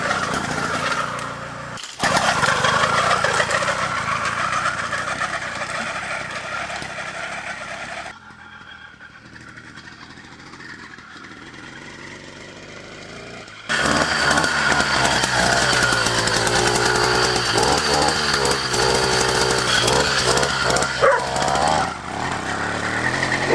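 A small two-stroke petrol motor fitted to a Kmart bicycle, run on 16:1 fuel mix, starts and runs with a loud buzzing drone. It drops away briefly in the middle, then picks up again loudly with revving.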